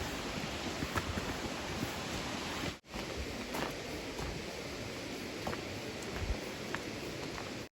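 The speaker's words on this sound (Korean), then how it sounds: "계곡 아래쪽에서 폭포 물소리가 들립니다." Distant waterfall at Juwang Valley in Cheongsong, heard from a valley trail, a steady broadband rush of falling water that stays even and soft, with faint rustles and one brief dropout.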